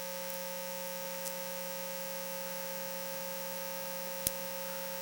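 Steady electrical power line hum picked up by a VLF receiver drones evenly throughout at moderate loudness, with a couple of faint clicks and one sharp brief crack near the end.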